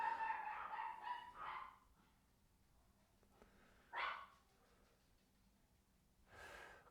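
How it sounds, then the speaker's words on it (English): Dogs barking in a couple of short bursts, fairly faint and somewhat distant, with quiet gaps between them. "Shut up, dogs."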